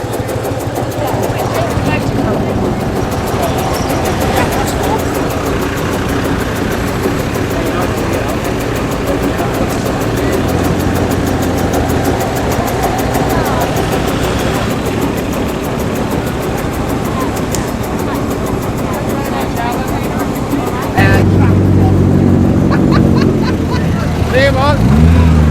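A Lanz Bulldog tractor engine runs steadily at an evening classic car meet, a continuous low throbbing that holds through the clip with crowd chatter and voices around it, growing louder and closer near the end.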